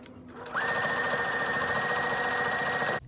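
A sewing machine runs in one steady burst of about two and a half seconds, stitching quilt squares together with a fast, even mechanical whir, close and alone.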